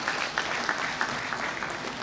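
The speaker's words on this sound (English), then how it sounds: "Please give a huge applause to all these universities" A conference audience gives applause, a continuous even patter of many hands clapping at moderate volume, somewhat distant and steady throughout.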